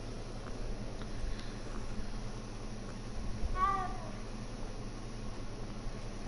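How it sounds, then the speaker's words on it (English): A cat meows once in Hogwarts Legacy, a short faint mew rising over a soft hiss of game ambience, with no other voices around it. "Kitty cat."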